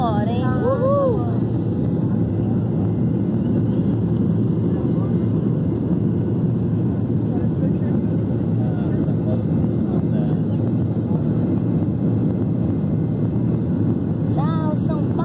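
An airplane taking off from São Paulo roars steadily and loudly from a cabin perspective throughout, with people talking excitedly over the engine noise.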